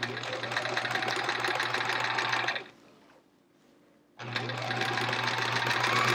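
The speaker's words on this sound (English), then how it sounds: "now we're gonna sew on the other side of that line" A sewing machine stitches scrap fabric chevrons for a quilt in a fast, steady motor hum, running loud and close, pausing briefly in near silence, then starting up again at the same pace.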